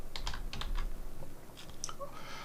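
Someone types on a computer keyboard while naming an Excel macro, a quick irregular run of crisp key clicks heard up close, with a brief pause midway.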